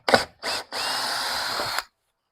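A power drill drives screws into a mobile home door: two short bursts of whirring, then a longer steady run of about a second that cuts off sharply, close and loud.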